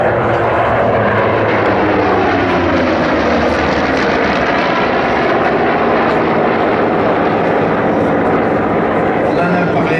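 A Corsair F4U-5 with a massive twin-row radial piston engine roars continuously and loudly as it flies past at an air show, its drone rising and falling with a voice faintly present.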